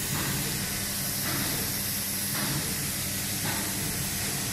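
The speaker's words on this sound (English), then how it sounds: "We'll seal it by the ultrasonic system." An ultrasonic sealing machine welds a plastic part, a continuous loud hiss with a few rhythmic surges in intensity, steady throughout with no talking.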